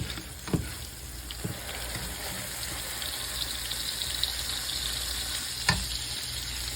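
Onions and burger patties fry on a hot griddle for fried onion burgers, giving a steady close sizzle with a few sharp scrape or press knocks, and no voices.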